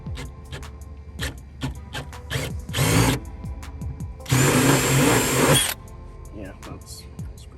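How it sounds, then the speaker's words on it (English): A power drill bores a 3/8 inch hole while an exhaust cutout is fitted to a 2020 Honda Accord with a Borla exhaust. It gives two loud whirring bursts, one short and one longer, amid light handling noise. "So let's go ahead and get that drill and drill this hole."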